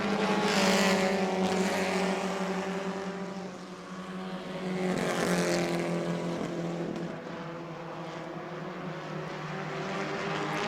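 Race cars in a Hoosier Series event at New Smyrna Speedway, with a pack of cars running close together, giving a loud, sustained engine roar that swells and fades as they pass, with no talk over it.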